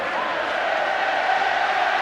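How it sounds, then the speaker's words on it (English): A large rugby league crowd at a Leeds Rhinos versus Bradford Bulls match chants for the Rhinos, a steady, dense roar of many voices filling the stadium without a break. "Listen to the crowd as well. They're chanting the Rhinos."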